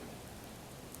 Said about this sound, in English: Been raining all morning.